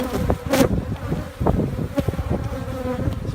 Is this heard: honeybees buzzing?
yes